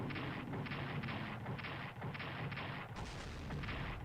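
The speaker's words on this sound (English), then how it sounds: "I hear a ton of explosions" Rumbling explosions and artillery fire from a WWII strategy game set in the Soviet winter, a dense continuous barrage of booms rolling on steadily and loudly throughout.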